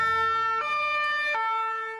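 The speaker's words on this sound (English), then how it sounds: "Ambulances were rapidly dispatched following an explosion in this small Bavarian town." An ambulance siren wails at news-report level, a steady two-tone call switching pitch twice, loud and close throughout.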